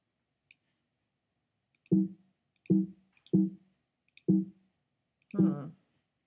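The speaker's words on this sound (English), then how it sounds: "I'm clicking buttons, can you tell?" Buttons on a computer are clicked in five separate, distinct presses spaced roughly a second apart, each a short, close, dull click standing alone in an otherwise quiet room.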